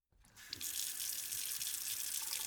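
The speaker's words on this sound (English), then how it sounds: "Pink water circled the drain." A tap opens and runs water into a sink with a steady, bright rush that starts abruptly and continues evenly, close and alone, with no talk, as an audio drama effect.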